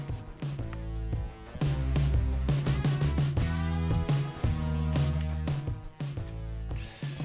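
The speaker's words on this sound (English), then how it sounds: "I double these boards up to cut them." A power tool cuts through doubled-up wood boards for a fireplace enclosure build, running loud and steady with a strong pitched whine that dips briefly as the cut progresses.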